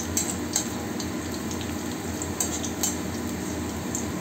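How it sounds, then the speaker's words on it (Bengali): Garlic stirred and frying in oil in a pan, a steady close sizzle with light scraping and clinks from the utensil against the pan. "রসুনটা ওই 30 সেকেন্ডের মতো একটু নাড়াচাড়া করে নিয়ে পেঁয়াজ কুচিটা দিয়ে দিচ্ছে"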